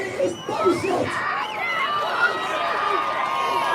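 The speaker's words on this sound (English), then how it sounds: "Got a crowd going mental." A crowd shouting and cheering in a dense, continuous roar of mixed voices with high cries and whistle-like calls, loud and steady throughout.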